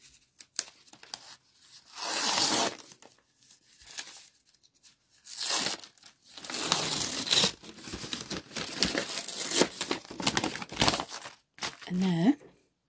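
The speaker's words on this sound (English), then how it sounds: "Tear along these edges." Paper envelopes torn open along their edges by hand, several loud ripping bursts separated by pauses, with crinkling in between and faint rustles near the end.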